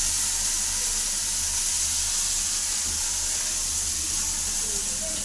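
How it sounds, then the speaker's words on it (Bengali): Fish roe fries in a pan, giving a steady, loud sizzling hiss with a low rumble underneath, continuous and unbroken. "মাছের ডিম দিয়ে ভাজছে"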